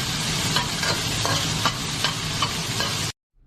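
Sichuan peppercorns and garlic hit hot oil in a wok, a loud close sizzle with rhythmic scraping stir-fry strokes, ending suddenly in silence.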